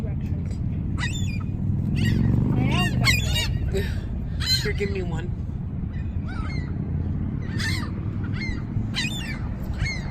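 Seagulls being fed French fries give shrill, repeated squawks and cries, scattered through the scene near and loud, over a steady outdoor rumble while people talk.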